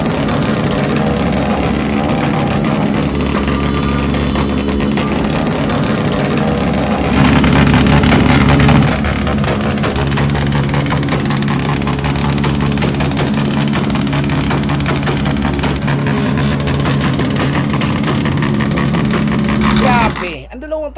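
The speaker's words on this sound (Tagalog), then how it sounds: "Ang dalawang tricycle ito at motorcycle ay naglabanan kung sinong pinakamaingay sa kanila." Two tricycles and a motorcycle with loud exhausts revving hard in a Philippine street at New Year, a continuous roaring engine drone that swells in places, close and loud throughout, with faint voices underneath.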